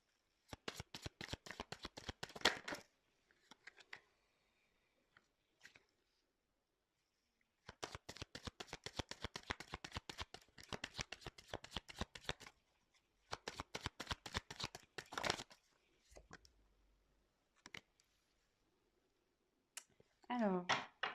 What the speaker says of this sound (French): Je fais mes petits tirages